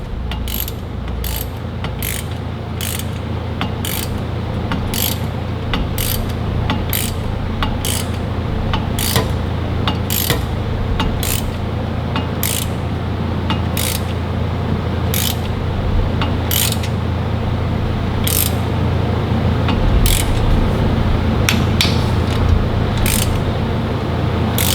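A torque wrench ratchets while tightening bolts on a new turbo fitted to a Caterpillar 3406B diesel engine, giving a steady run of crisp, evenly spaced clicks over a constant low hum.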